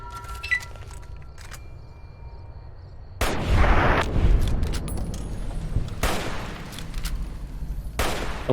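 Gunfire from NCR soldiers shooting down Vipers in a Fallout video game: after a quiet stretch, loud bursts of shots and blasts erupt, sustained and heavy, with sharper volleys recurring near the end.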